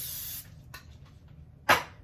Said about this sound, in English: You're going to spray your pan.